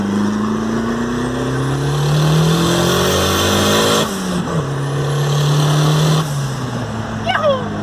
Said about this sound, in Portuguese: Só pra esquentar a turbina.